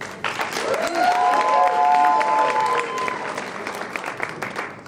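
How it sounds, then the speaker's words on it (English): A room full of people at an annual dinner applauds steadily, the dense clapping joined by a few cheers and voices, then gradually thinning out. "I've never gotten so much applause."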